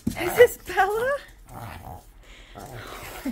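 A dog snorts and makes short whimpery, growly noises up close, in a few quick bursts with pauses between.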